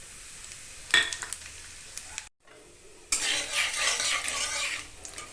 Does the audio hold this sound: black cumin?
yes